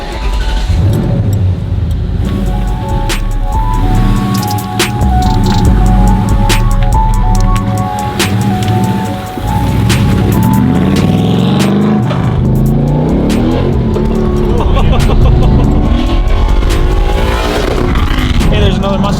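Engine of a fake Hoonicorn Mustang driving on its first run, a steady loud drone with revving swells and gear-change dips throughout, with people talking over it.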